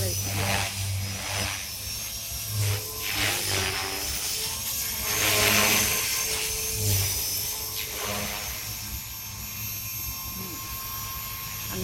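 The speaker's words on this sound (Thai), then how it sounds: "เรากำลังบินตัดหญ้านะคะ" An RC helicopter flies low while cutting grass with its rotor blades, a steady loud whine and buzz running throughout with small surges, while someone talks over it.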